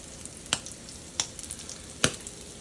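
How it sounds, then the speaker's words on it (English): Steady sizzling of slider buns frying in a pan, with three sharp pops standing out above the hiss. No one speaks. "while I am frying the buns"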